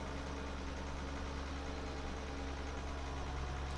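A John Deere tractor engine idles steadily in Farming Simulator 15, a low, even rumble with constant mechanical hum and no break in loudness.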